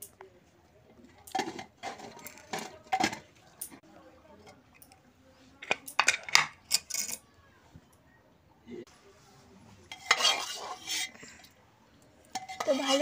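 A spoon stirs and mashes boiled lentils in a cooking pot, giving irregular scraping and clinking bursts with quieter gaps between them.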